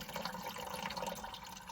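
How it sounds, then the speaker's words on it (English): Engine oil draining from a loosened, leaking filter down into a pail, a faint continuous trickling and splashing of liquid close by. "Well, that filter's draining."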